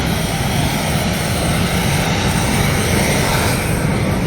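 A brand new propeller airplane's engine roars close and loud in a dense, steady drone that holds throughout, with no voices over it.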